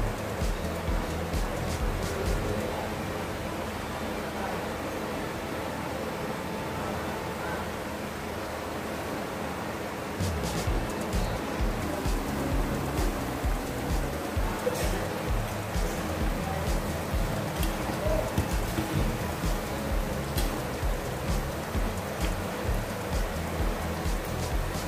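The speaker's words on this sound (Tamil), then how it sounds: "இப்போ இதை வந்து நம்ம டீப் ஃப்ரை பண்ண போகிறோம்." Tofu deep frying in hot oil for a sweet and crunchy Korean dish, a steady dense sizzle and crackle throughout that grows busier and louder midway, with no talk over it.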